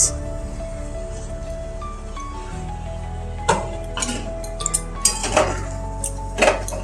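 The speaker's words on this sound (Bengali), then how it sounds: "তো এবার আমি ঢাকনাটা খুলে দেখব" A cooking pot lid is lifted off a dish of potoler dorma, stuffed pointed gourd, bringing a few clinks and metallic clatters over a quiet kitchen hum with musical tones.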